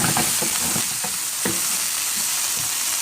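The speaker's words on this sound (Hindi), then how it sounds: "और अब हम लोग फ्राई पैन में ऑयल डालेंगे और सब्जियों को फ्राई कर लेंगे" Vegetables stir-fry in hot oil in a frying pan for egg fried rice: a steady sizzle broken by sharp spatula scrapes and clacks against the pan, close and without voices.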